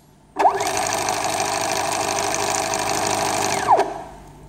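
Close up, a homemade stepper motor peristaltic pump spins through 40 revolutions, whining up to speed, holding a steady buzzing drone for several seconds, then ramping down with a descending tone and a brief fading hum.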